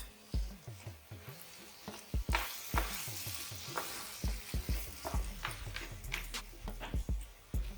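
Ground turkey and tomatoes being stirred in a hot skillet, with repeated close scraping strokes of the spoon in an uneven rhythm over a soft, ongoing sizzle.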